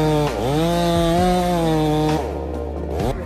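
A Husqvarna 390 chainsaw cuts into a large tree, its engine roaring loud and close with a steady high whine that dips under load, then settles as the cut changes.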